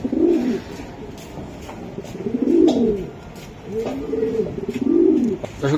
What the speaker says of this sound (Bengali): দর্শক এই যে আরেকটা কবুতর